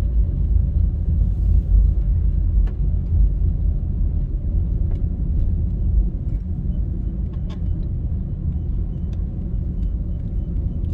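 A car drives slowly through the residential community of Pembroke Hall, giving a steady low road rumble and engine drone throughout, heard from inside the vehicle with occasional faint ticks and no talking.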